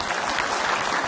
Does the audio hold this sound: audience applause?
yes